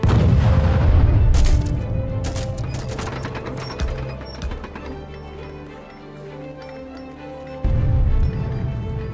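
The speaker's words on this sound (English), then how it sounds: "We can use the fixed gun to fire upon both naval and land targets" Heavy cannon fire from a fixed great cannon in the Age of Empires 3 strategy game, with several sharp booming shots in the first half over a dense, loud backdrop of battle and game music.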